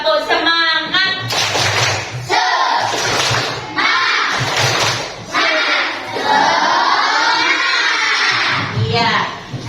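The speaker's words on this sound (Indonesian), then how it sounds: "Coba sebelum melangkah ke pertanyaan, tepuk semangat." A class of schoolchildren performs a rhythmic spirit clap, clapping in patterned bursts and chanting together loudly and close, with a teacher's voice speaking at the start.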